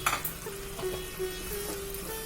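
A tomato and capsicum curry being stirred in a pan with ground roasted sesame powder and chilli powder just added, giving a steady soft sizzle with scraping stir strokes, close and without speech.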